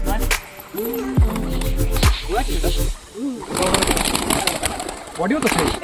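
Pigeons, including high-flying and racer birds kept as pets, coo in soft repeated throaty calls close by, with scraping and handling noises and brief bursts of louder activity between the calls.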